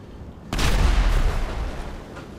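In Grand Theft Auto V Online, a sudden loud blast bursts in after a short silence, then rumbles and crackles as it slowly fades.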